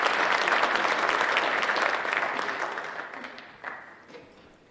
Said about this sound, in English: please, a nice round of applause for Teaghin Andrade.